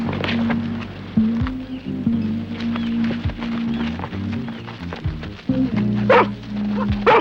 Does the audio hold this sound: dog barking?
yes